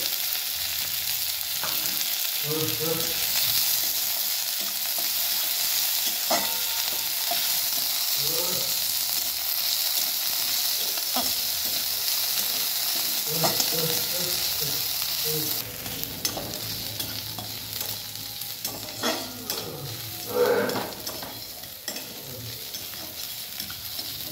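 Chopped onion and garlic frying in a pan for a bean mash, a continuous close sizzle with repeated scraping stirs of a spoon, steady throughout and no talk.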